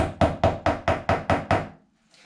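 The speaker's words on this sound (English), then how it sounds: "So just knocking it through just 3 or 4 millimeters, just so it doesn't crack the tile." A plastic wall plug tapped a few millimetres into a drilled bathroom tile hole while fitting a cabinet: seven sharp, evenly spaced knocks, close and loud, then quiet.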